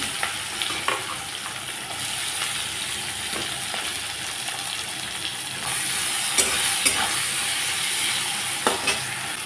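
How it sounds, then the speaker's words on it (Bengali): Onion, garlic and cumin fry in oil in a pan with a steady hiss and sizzle, broken by occasional scraping stirs and light clinks; no one speaks. "এখন আমি ভালো করে ভেজে নিচ্ছি।"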